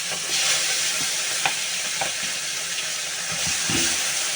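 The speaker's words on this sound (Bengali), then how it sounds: "চলো এই মাছটা ভেজে নিই" Bhola fish fries in a pan with a dense, steady hiss of sizzling oil, close and even, broken by a few short clinks and spatters.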